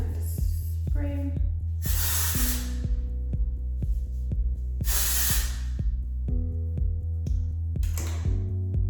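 Hairspray hisses from an aerosol can onto hair in three or four bursts of about a second each, heard over a steady background music track with a pulsing beat.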